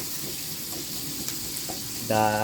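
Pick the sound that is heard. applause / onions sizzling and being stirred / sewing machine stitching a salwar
onions sizzling and being stirred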